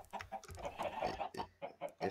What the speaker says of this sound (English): I can breed the chickens.